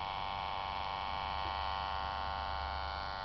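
A running Bedini SSG joule thief circuit charging super capacitors and a battery produces a steady, unbroken electrical hum with a faint buzzy edge, constant in level and heard alone.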